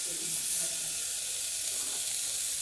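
Chili powder tempering sizzles in hot oil in a pan for a Maharashtrian mutton curry, a steady close hiss filling the whole moment with faint background stirring.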